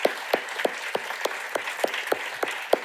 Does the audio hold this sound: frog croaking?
no